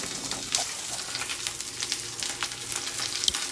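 Kung Pao chicken pieces sear in a hot pan with a steady, close sizzle and crackle, punctuated by brief spatters and pops, no voices.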